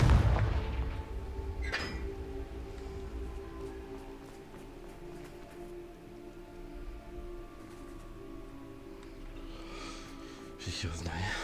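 A Confringo blasting spell in Hogwarts Legacy goes off with a heavy boom at the start, then settles into a low, fading rumble with faint crackles, followed by a smaller burst near the end.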